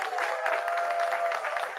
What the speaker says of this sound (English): I want you to give a round of applause for Greg Castro